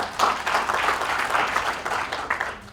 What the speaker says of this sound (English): Let's clap for ourselves, please.